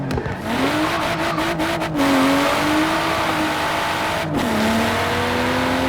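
A BMW M4 Coupe engine revs hard and close, its pitch climbing, dipping briefly and climbing again in sustained pulls with a loud, continuous exhaust note.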